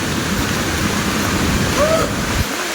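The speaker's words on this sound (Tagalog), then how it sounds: "Lakas ng tubig eh." Strong river current rushing over rocks on a mountain stream near a waterfall, a loud continuous broadband roar filling the whole stretch with no voices.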